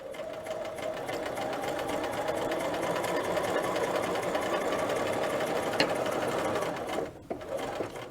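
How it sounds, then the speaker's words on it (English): A sewing machine stitches a dress collar with a steady, continuous whir for about seven seconds, then briefly slows and stops before starting again; no one talks. "So just start stitching."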